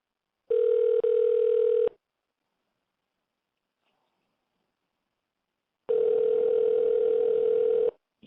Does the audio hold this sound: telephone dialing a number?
yes